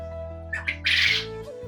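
Farmed quails squawk close by while being fed: a couple of quick harsh chirps, then a louder rasping squawk about half a second long, over a steady low hum.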